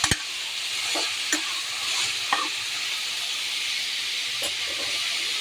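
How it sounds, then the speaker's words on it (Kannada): Kabuli chickpeas and potatoes roasting in a pan give a steady close sizzle and hiss, broken by a few sharp scraping stirs near the start and middle. "ಇವಾಗ ಅದು ಕಾಬೂಲ್ ಕಡಲೆ ಮತ್ತು ಆಲೂಗೆಡ್ಡೆ ಹಾಕಿ ಚೆನ್ನಾಗಿ ಸ್ವಲ್ಪ ರೋಸ್ಟ್ ಮಾಡ್ಕೊಳ್ತಾ ಇದ್ದೀನಿ"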